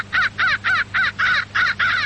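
A crow call played through a Johnny Stewart transistorized Electrocall electronic caller: seven loud, evenly spaced harsh caws in a steady rhythm, close and alone over a faint low hum.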